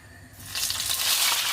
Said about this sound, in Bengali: এখন রূপচাঁদা মাছগুলোকে ভেজে নিব